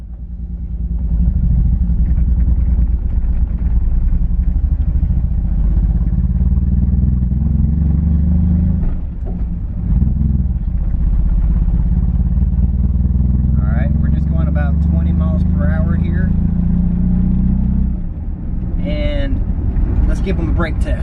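Datsun 280Z with upgraded brakes driving off and accelerating, a loud, steady engine drone with gear-change dips and road rumble inside the cabin, while people talk over it.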